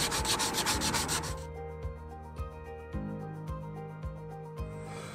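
Metal RV storage compartment handle being sanded, giving a dense scratchy rasp for just over a second before it gives way to rhythmic background music with a steady beat.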